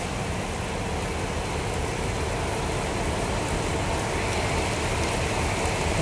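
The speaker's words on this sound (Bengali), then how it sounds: "বাইরে বৃষ্টি পড়ছে," Steady, dense rain pours down outside a moving train on a journey from Kolkata toward Assam, a loud continuous hiss with a low rumble beneath and no voices.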